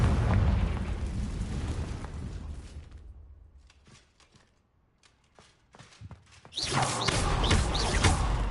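A Confringo blasting spell erupts in Hogwarts Legacy with a heavy booming burst that fades into near quiet, followed by scattered small crackles and then a second loud, roaring explosion.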